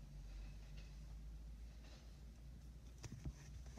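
BNSF freight train led by GE 9-44CW locomotives rolling over a railroad diamond crossing in Newnan, Georgia, a steady low rumble with faint clacks and a couple of sharper knocks near the end, heard from trackside.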